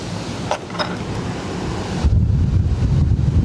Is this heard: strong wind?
yes